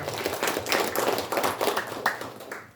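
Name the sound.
applause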